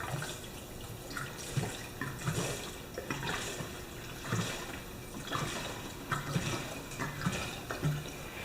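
Gasoline poured into the fuel tank of a Craftsman lawn mower, a steady liquid splash and gurgle with rhythmic surges, close by and moderately loud, without talk.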